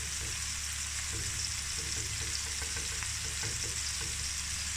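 Tomatoes and onions fry together in a pan for masala bhindi, a soft, constant sizzle with light rhythmic stirring scrapes, fairly quiet and close, with no talking.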